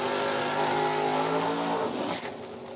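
A 1957 Corvette drag racing down the NHRA strip at No Problem Raceway, its engine roaring loud and steady with strong harmonic drone before fading off toward the top end.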